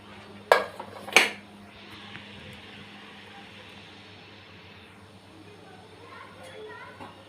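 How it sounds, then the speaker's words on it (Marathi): A pressure cooker holding mutton paya soup is opened: two sharp metallic clanks of the lid early on, followed by quiet kitchen background with someone talking. "आता कुकर उघडूया."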